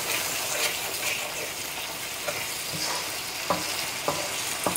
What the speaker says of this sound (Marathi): हो मसालो आमी हितून फ्राय करूया एटलिस्ट फॉर 2 मिनिट्स